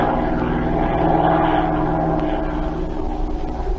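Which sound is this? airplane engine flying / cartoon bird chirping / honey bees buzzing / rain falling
airplane engine flying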